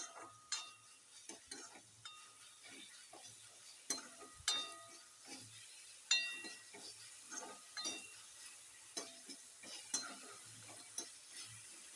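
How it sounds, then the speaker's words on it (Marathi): Quiet sizzling of rice frying in oil in a pan with scattered clinks and scraping stirs, irregular taps over a soft frying hiss, close by. "इकडं भात शिजतोय छान शिजवून घ्यायचं तेलामध्ये कच्चापणा गेला पाहिजे"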